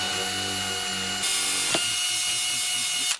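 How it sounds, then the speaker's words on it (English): A power drill with a 1/4-inch bit bores into marked metal on a Jeep JKU cargo platform, a loud, continuous whine that shifts pitch partway through and stops abruptly. "I'm using a 1/4-inch drill bit in the hole or the indentation that's just been marked."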